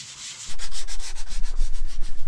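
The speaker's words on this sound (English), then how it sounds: "Day of sanding, yeah." Close, rhythmic back-and-forth sanding strokes in an Adria Twin camper bathroom, with a harsh, gritty hiss, repeating steadily with no voices.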